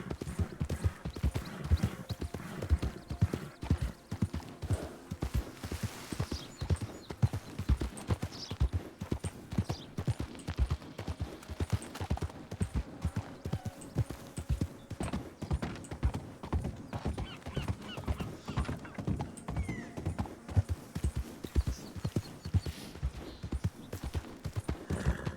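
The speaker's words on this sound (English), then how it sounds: "it's probably not true that all horses sound the same" Horse hooves clip-clop in a steady walking rhythm for the whole stretch, in a Western roleplay game, moderately loud with faint background ambience and no talk.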